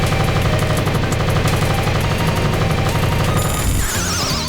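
Rapid bursts of gunfire and an explosion in the shoot-'em-up video game Like Dreamer, loud dense rattling shots at a fast steady rhythm, ending in a crash and warbling electronic tones.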